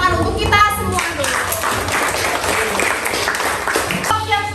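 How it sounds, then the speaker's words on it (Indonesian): A classroom group of students claps together, a dense burst of applause lasting a few seconds, with a voice speaking just before and after. "Beri tepuk tangan untuk kita semua dulu."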